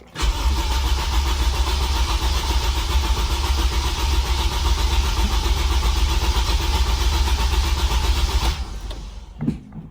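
A Honda K20 car engine with bent valves and its fuel injectors unplugged cranks steadily and continuously for several seconds, loud and close, then cuts off abruptly.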